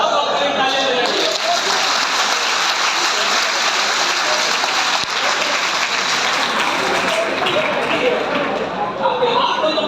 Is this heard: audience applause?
yes